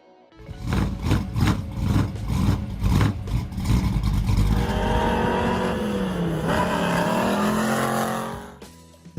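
A 1969 Ford Mustang Boss 429 revs hard in a string of loud, rapid bursts, then settles into a long sustained roar that dips briefly in pitch before fading near the end.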